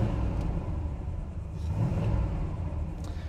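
A 1966 Pontiac GTO engine idles just after starting, a steady, loud, low rumble that stays even throughout with no voices.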